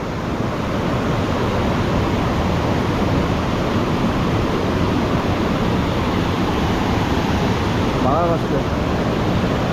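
Powerful rushing water at a waterfall roars steadily and loudly throughout, a dense, unbroken torrent close by with no pauses.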